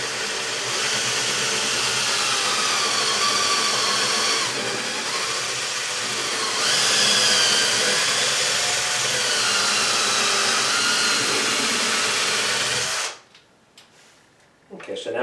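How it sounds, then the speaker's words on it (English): A power drill boring slowly through a wooden kitchen cabinet door, a loud steady whine that holds for about thirteen seconds, lifts slightly in pitch midway, then stops abruptly, leaving quiet handling noise. "now we've drilled through the cabinet all together"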